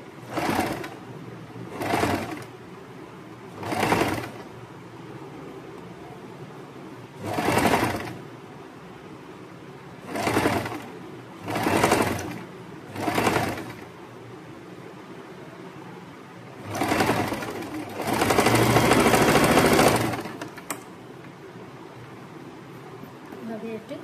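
A sewing machine stitches a yoke nighty in repeated short bursts of whirring, each a second or two long with pauses between. A longer, louder run comes near the end, and a voice talks during the gaps.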